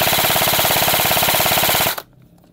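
An airsoft rifle with a quick-change gearbox fires a sustained full-auto burst, a fast even rattle of shots close to the mic, cutting off abruptly after about two seconds into near silence.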